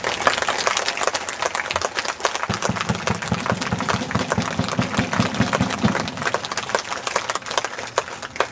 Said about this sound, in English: So let's give a round of applause to Officer Cadet Nicole Kay.